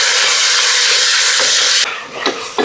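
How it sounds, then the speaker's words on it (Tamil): Onion, tomato and three chillies frying and being stirred together in a pan for a country chicken pepper gravy: a loud, steady sizzling hiss that drops off near the end, with a few soft stirring knocks. "நல்லா மிக்ஸ் பண்ணிடுவோம்."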